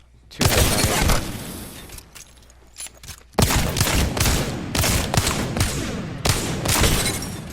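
Wingman pistol shots in Apex Legends fired in quick bursts, loud and sharp with a pause in the middle, then a steady run of repeated blasts.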